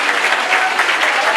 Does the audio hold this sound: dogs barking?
no